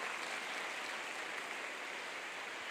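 A church congregation claps together in sustained, dense applause, a steady wash of hand claps that holds evenly for the entire short stretch with no voices heard over it.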